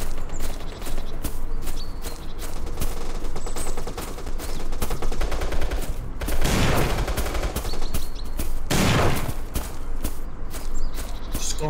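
Continuous loud machine-gun fire from a PC match of Bullet Force, dense rattling bursts with a couple of heavier blasts and faint footsteps underneath.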